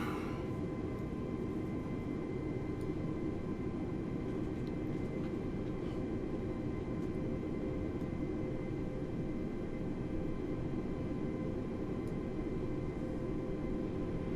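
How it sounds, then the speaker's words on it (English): A320neo auxiliary power unit running at the gate before taxi in a flight simulator game, a steady, loud whine and rumble holding evenly throughout with no breaks. "APU is firing up"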